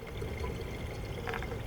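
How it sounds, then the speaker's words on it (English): Water from a garden hose running into a car radiator during a coolant flush, a quiet, steady splashing fill sound heard alone over a short span. "With the drain valve closed, fill the radiator until it's full."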